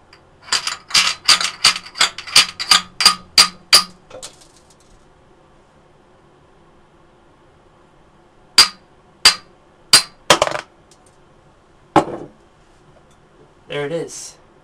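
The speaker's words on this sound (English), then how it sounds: "Then all you do is you rub the necks together really hard." Necks of two brown beer bottles struck and rubbed together hard, a rapid run of about a dozen sharp glassy clinks, then a pause and several more spaced hits, close and crisp.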